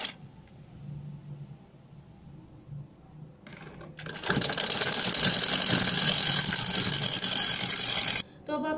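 A sewing machine stitches reversed lace onto a blue strip along a shirt hem. Quiet handling comes first, then the machine runs loud and steady for about four seconds and stops abruptly.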